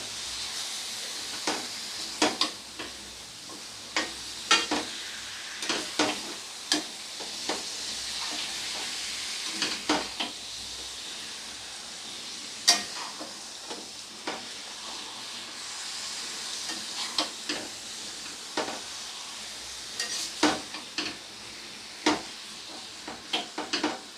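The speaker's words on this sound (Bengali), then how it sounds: "মাংসটা দেওয়ার পরে মশলার সাথে একটু নেড়ে চেড়ে নিতে হবে আগে।" Mutton pieces stirred with spices in a pan for kosha mangsho, a soft hiss under repeated sharp scraping strokes of a spatula at an irregular rhythm, no talking.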